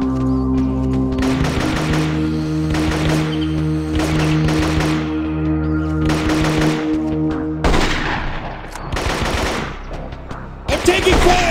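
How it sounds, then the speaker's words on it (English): Rapid gunfire in the video game Marine Sharpshooter 2, loud bursts of automatic fire in several clusters over a steady low background hum, with the last bursts sharper and closer. "I'm taking fire!"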